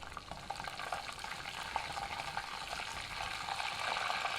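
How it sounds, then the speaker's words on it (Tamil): Mustard seeds, dried red chillies and curry leaves fry in hot oil for a prawn curry, giving a soft, steady crackling sizzle at low level with no voices. "இது நல்லா பொரியட்டும்னு வெயிட் பண்ணுங்கள்."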